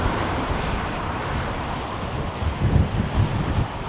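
Strong gusts of Storm Amy roar through Glasgow city centre, a steady loud wind buffeting the microphone with heavier rumbling surges near the end.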